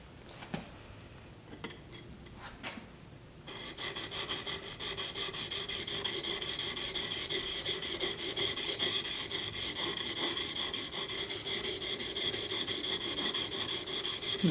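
A woodworking chisel bevel is ground on a sharpening stone, a steady close rasping scrape that begins after a few seconds of quieter handling taps and continues evenly to the end.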